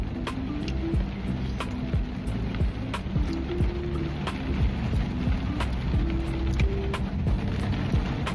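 Steady rain falls throughout, a dense even hiss with scattered drops and taps close by, no voices over it.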